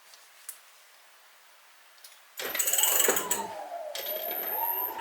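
An electric bike motor on an ASI controller engages smoothly: a few faint clicks in near silence, then a sudden steady electric whine that glides up and down in pitch and continues to the end.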